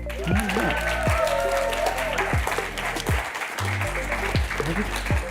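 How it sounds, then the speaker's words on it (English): An audience at a climate heroes community event claps continuously for several seconds, a close, dense applause with a few brief vocal sounds mixed in. "Martha, can we just give another round of applause for them"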